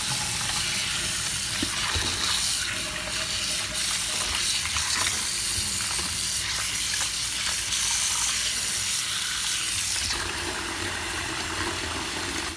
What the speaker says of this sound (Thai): ล้างปลาให้สะอาด